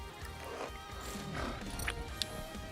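Horse hooves clopping with a whinny in Skyrim, over a steady game background, with a couple of sharp clops standing out near the end.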